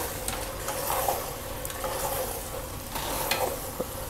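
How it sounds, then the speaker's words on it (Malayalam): Mutton roast with whole eggs being stirred in a pan, a steady sizzle and frying hiss with a few scraping clinks of the spoon, close and continuous. "എന്നിട്ട് ഒന്ന് ഇളക്കുക."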